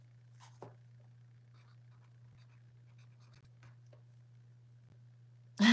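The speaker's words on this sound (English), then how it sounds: "Let me write that down real quick." A pen scratches faintly as someone writes by hand in a quiet room over a low steady hum, with soft sporadic strokes. A sudden loud burst comes right at the end.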